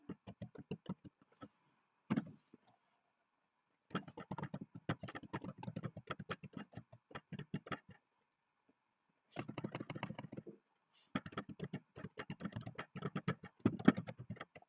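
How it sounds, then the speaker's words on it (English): Rapid clicking of a computer keyboard as a user's email address is entered, coming in bursts of quick keystrokes separated by short pauses, close and fairly quiet with no talking. "we're going to type the user email address"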